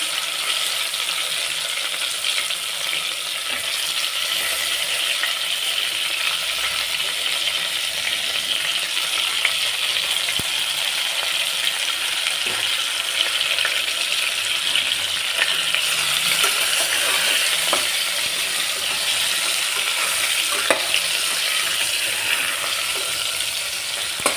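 Eggplant and green chillies frying in a pan, with a steady, fairly loud sizzling hiss throughout and a few faint clinks and stirring knocks.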